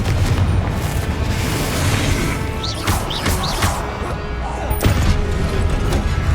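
A blasting spell goes off in a wizarding video game, with loud continuous crashing booms over a dense rumbling game soundscape, marked by a few whooshing sweeps and sharp bursts.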